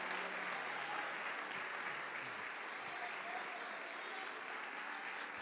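A church congregation applauds during a worship service, steady dense clapping from a crowd heard at a moderate distance, continuous and even throughout, with no one speaking over it.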